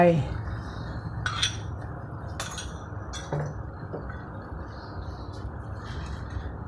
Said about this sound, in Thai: แล้วคนคนไปเรื่อยๆ จนพริกแกงละลายกับกะทิ